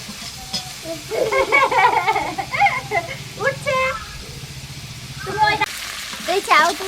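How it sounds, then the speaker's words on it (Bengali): Prawns frying in a pan with salt, a steady sizzle running under someone speaking Bengali throughout, with a brief stir near the end. "লবণটা দিয়ে চিংড়ি মাছগুলো আমি ভেজে নেব"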